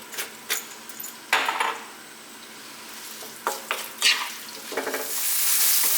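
Onions cooking in a pan for a vegan cabbage, potato and turmeric stew, a soft steady sizzle broken by several sharp scraping stirs of a utensil against the pan, with the frying growing louder toward the end.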